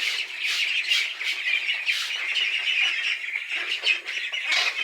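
Pekin Star 13 ducklings call in a constant shrill chorus of squawks and peeps, close and loud without a break and with no speech.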